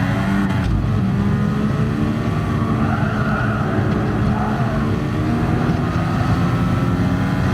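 A classic Formula 1 race car engine at the Nürburgring GP circuit in GT Sport roars loud and continuous, holding a steady high-revving drone throughout with no talk over it.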